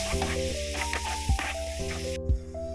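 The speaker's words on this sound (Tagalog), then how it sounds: "Next, igisa na rin natin ang fermented black beans." Fermented black beans sauté for mapo tofu, a loud close sizzle and hiss in a hot pan, with scraping stirs at intervals and a brief pause near the end, with no talking.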